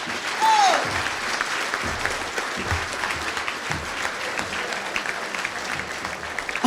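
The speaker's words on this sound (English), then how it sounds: "Give yourselves a round of applause for being here." An evening audience at a South Jersey community salute ceremony applauds, a dense, steady wash of clapping that carries on throughout with a brief vocal note near the start.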